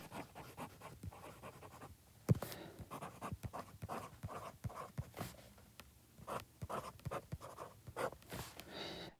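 A Pelikan M805 fountain pen with an oblique broad nib and Private Reserve Chocolat ink scratching across paper, close and quiet, in short irregular strokes with brief pauses.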